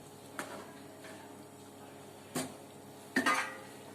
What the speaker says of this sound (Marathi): झाकण लावून ठेवून द्यायचं